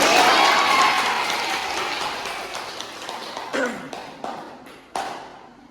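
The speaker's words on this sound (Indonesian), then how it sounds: "Beri tepuk tangan dong." Classroom students in a teaching simulation clap briefly; the dense clapping fades within the first couple of seconds, followed by a few scattered sharp taps and claps in a quieter room.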